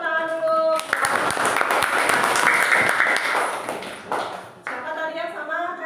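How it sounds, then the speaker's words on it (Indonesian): Schoolchildren clapping together in a classroom, a burst of loud applause lasting a few seconds before it fades out, with a voice speaking before and after. "Kasih tepuk tangan dulu"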